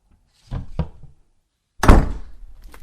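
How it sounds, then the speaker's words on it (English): A door is pushed shut twice in a radio drama: a softer thump with a rattle, then after a short silence a heavier, louder thud that trails off. No voices. "Shut the door behind me."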